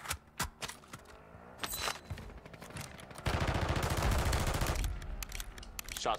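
Gunfire in a battle royale shooter game: several sharp single shots, then a sustained rapid burst of automatic fire, followed by a few more scattered shots. All of it is fairly close and stands alone.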